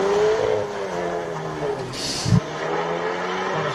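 A race car launches off the line at the SIMOLA Hillclimb 2023 top 10 shootout, its engine revving loudly and rising in pitch, with a sharp thump and burst of noise midway.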